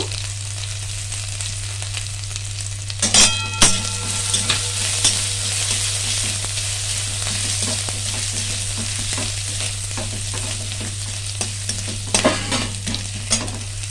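Oil sizzles steadily in a pan on a home stove while food is stirred, with a constant low hum underneath and occasional sharp scraping or clinking accents; no talking.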